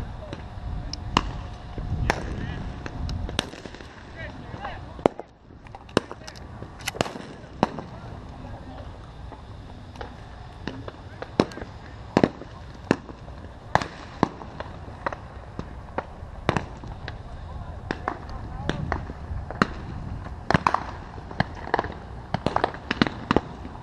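Shotgun blasts during a dove hunt in Imperial Valley, many sharp reports fired singly and in quick pairs across the span, some near and loud, with people talking between shots.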